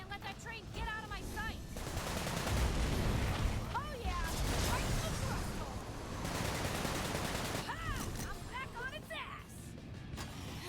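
Bursts of rapid gunfire and booming impacts hit a boss's thrusters in the video game Sunset Overdrive, loud and sustained amid game music, with a voice talking over parts.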